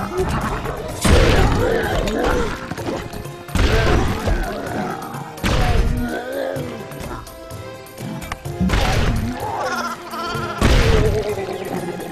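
Game sheep in Boom Blox bleat repeatedly between thudding, crashing block impacts, the wavering cries rising in several loud bursts over busy background game audio.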